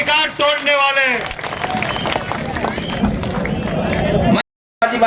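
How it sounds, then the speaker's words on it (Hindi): A large crowd at a political election rally claps loudly and continuously, with a dense wash of applause after a brief opening voice and crowd hubbub throughout. "दोनों हाथ उठाकर जोरदार ताली बजाकर आज की सभा को प्रारंभ करो"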